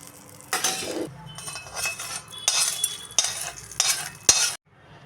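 Spoon clinking and scraping against a vessel as hot tempering with curry leaves is stirred into okra pickle, with several loud close bursts of metallic stirring and a sharp clink before stopping, with no talking.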